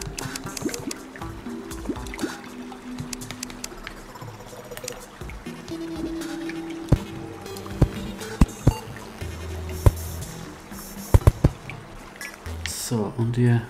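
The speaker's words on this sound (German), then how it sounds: "Wasser fließt ab." Water draining away in the video game Terraria, with soft liquid trickling and dripping sounds and a few sharp clicks, faint and mixed under talk.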